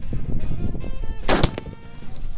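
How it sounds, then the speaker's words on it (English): A 6mm AR15 rifle chambered in 6x45 fires a single 75 grain Sierra Varmint round at 2750 fps, a sharp loud report that rings out briefly with no talk over it. "That was a 75 grain Spear Varmint round at 2750 FPS."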